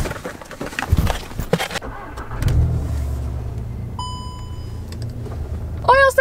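A VW Golf R MK7 with a camshaft ticking issue runs with a low, chugging engine rumble that rises partway through, heard close up with people talking over it.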